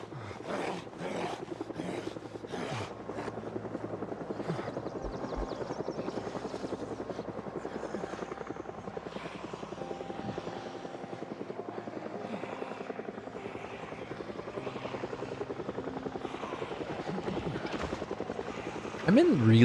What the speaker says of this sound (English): Oh, that's the helicopter.